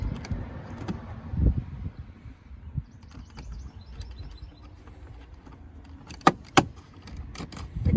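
A plastic trim tool pries out the window switch panel on a 2013-2018 Toyota RAV4 door, giving a few sharp plastic clicks and snaps, two close together near the end, over a quiet low rumble.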